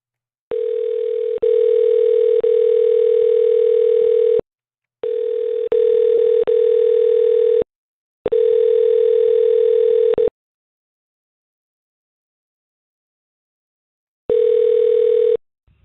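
Ringback tone of an outgoing phone call: four long steady tone bursts separated by silent gaps, loud and alone with no voices.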